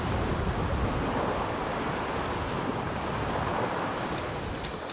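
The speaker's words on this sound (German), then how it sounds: "Jetzt hat der Wind aufgebriest" Strong wind roars across the microphone while waves rush and splash against a sailboat crossing a sound in a skerry landscape, a dense, continuous broadband wash with no voices.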